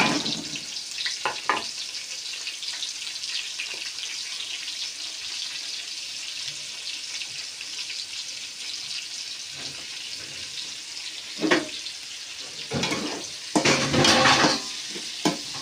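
Onions fry in a pan for chicken pulao, giving a steady soft sizzle with occasional louder scraping stir strokes near the end.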